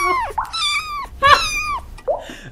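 Cartoon cat meows in the video game Coming Out Simulator, three loud, clear meows one after another, each a bending harmonic cry, with no talk over them.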